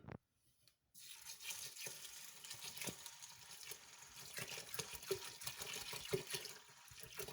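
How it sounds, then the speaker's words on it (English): Water runs steadily into a cooking pot of beans and rice for a plant-based dish, a continuous close pouring wash with small splashy peaks, starting after a brief quiet moment, with no talking. "so now we're going to add the water in"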